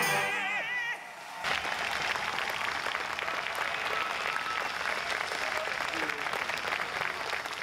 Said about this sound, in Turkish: event Gündüz, Murat Karahan, Bülent Külekçi, Hüseyin Likos ve Aydın Uçtuk ayakta alkışlandı